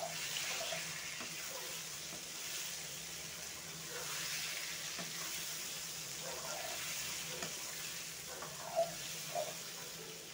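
Mutton liver (kaleji) frying in a pan, a soft steady sizzle with a few faint pops and clicks throughout, fairly quiet and with no one talking.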